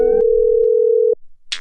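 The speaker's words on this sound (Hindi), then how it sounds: "इतनी रात में किसका फोन होगा?" A steady electronic telephone tone holds for about a second, then cuts off, followed by a brief rustle and a short burst of noise.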